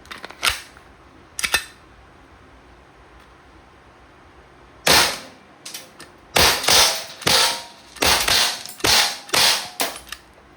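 Umarex Glock 17 Gen 5 airgun pistol firing 4.5mm steel BBs: two separate sharp shots, then a pause, followed by a rapid string of about seven cracking shots, each with a short decaying tail.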